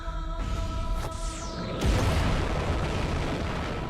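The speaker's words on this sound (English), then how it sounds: "Ooh, nice explosion." A loud explosion bursts in the video game Nine Sols, a broad booming blast that rises suddenly mid-clip over steady game music and effects, then rumbles on without speech.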